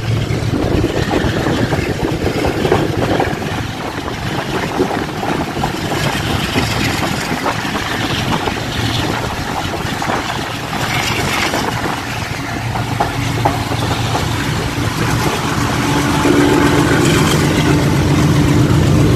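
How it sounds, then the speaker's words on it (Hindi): Deep, steady low-end rumble of a GU40 diesel locomotive hauling the Pakistan Express in rain after Multan, a continuous heavy drone with broadband rushing noise that holds loud and even throughout, swelling slightly near the end. "GU40 की आप चकिंग सुन सकते हैं, बहुत ही पावरफुल साउंड है इस इंजन का"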